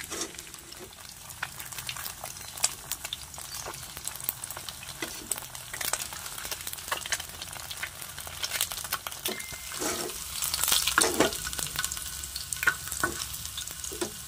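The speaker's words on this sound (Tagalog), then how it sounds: "So ayan, dali lang tong lutuin guys, prito-prito lang to." Food sizzles and crackles steadily as it is pan-fried in a hot pan, with occasional scraping and stirring clatter up close and no talking.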